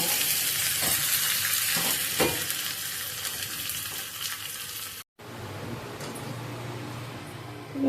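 Curry leaves and other tempering sizzling hard in hot oil in a pan for ginger curry, a loud steady hiss with stirring clicks, briefly cut off, then a quieter sizzle.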